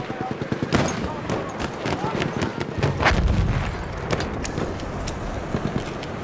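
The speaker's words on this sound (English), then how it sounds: "Hey, they're shooting at us." Battlefield 1 desert battle with repeated gunfire bursts and heavy artillery booms, some near and some distant, mixed with vehicle rumble and voices talking over the combat.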